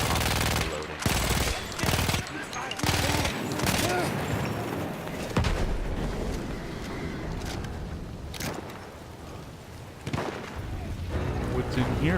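World War I-era gun firing in a Battlefield 1 campaign battle, loud repeated bursts of gunfire with short gaps between shots, amid battlefield noise and occasional voices.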